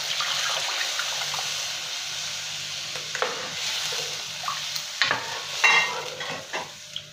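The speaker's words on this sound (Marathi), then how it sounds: "यामध्ये मी आता कट घालणार आहे, म्हणजे डाळीचं पाणी घालणार आहे।" Dal water poured into a hot pan of sautéed spices for katachi amti, a rushing, hissing pour over a steady sizzle, with clattering utensil knocks and a louder splash and stir toward the end.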